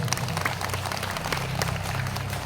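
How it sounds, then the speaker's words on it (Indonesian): A crowd at an outdoor dawn religious lecture applauds the village head, dense steady clapping filling the whole stretch at moderate level with no clear voices over it. "Tepuk tangan buat Kades kita."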